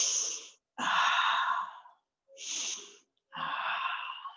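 Deep breaths drawn in and let out during a solstice yoga flow, four long airy inhales and exhales separated by brief pauses, close and fairly soft, with no talking.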